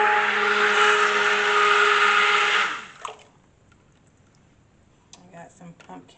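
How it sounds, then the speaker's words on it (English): A stick blender whirs loudly and steadily through cold process soap batter mixed with pumpkin purée for almost three seconds, then cuts off, leaving faint clinks and handling noises. "we are going to stick blend this just to mix it before we add our lye solution"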